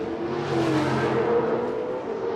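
A Rockstar-sponsored Pro Lite race truck at the 2008 CORR race in Las Vegas, its engine revving loudly and steadily on the off-road track, with the pitch rising and shifting as it passes.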